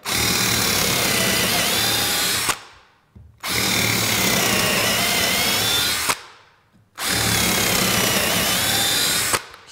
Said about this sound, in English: Let's drill a bit in wood.